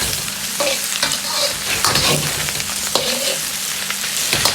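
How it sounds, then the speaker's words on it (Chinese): Spices stir-fried in a wok with spring onion, braising goose, a steady close sizzle broken by repeated scraping strokes of the spatula against the metal, with no voices. "加入控干水分的香料，翻炒均匀，炒出香料里边多余的水分"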